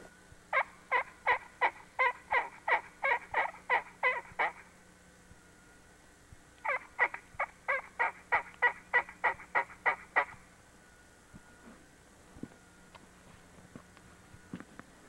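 Wild turkey yelps during a spring turkey hunt, two rapid runs of about a dozen sharp notes each, mid-distance and clear over a quiet background, with only scattered faint sounds afterward.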